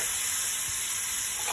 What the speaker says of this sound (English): So now I'm going to add the ackee.